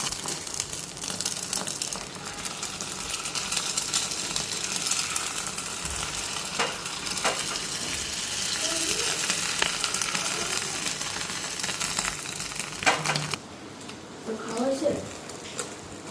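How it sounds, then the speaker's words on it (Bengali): An egg omelette fries in a pan, a steady close sizzle with occasional scraping, with a voice talking over it at times before the hiss drops off near the end. "এদিকে ডিমের আমলেট করে দিতেছি রুটির লগে,"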